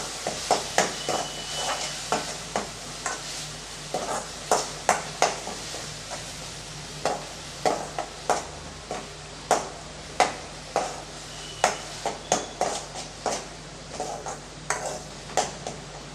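Ground paste is sautéed in oil in a pan for tomato rasam, with a soft steady sizzle broken by frequent sharp clinks of a spoon striking the pan in an uneven rhythm.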